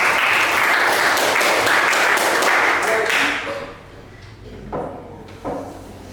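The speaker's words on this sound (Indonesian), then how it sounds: "tepuk tangan untuk kelompok." Applause from a classroom audience for a student group at a teacher-training performance assessment, a dense clatter for about three seconds that then stops abruptly, leaving room noise and a couple of faint knocks.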